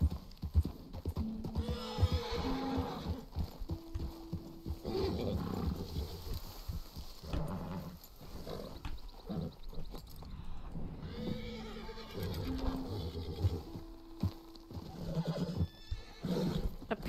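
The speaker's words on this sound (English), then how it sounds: "What are these horses doing here?" Horses in Red Dead Redemption 2 whinnying and neighing loudly at close range, with hooves clip-clopping underneath and a steady ambient outdoor game background.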